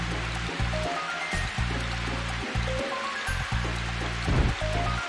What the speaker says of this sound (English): Through the waterfall we go.